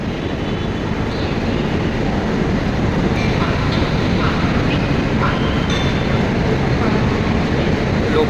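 A dense, rumbling roar of trains and station noise fills a busy platform, loud and constant with faint clanks and murmurs mixed in.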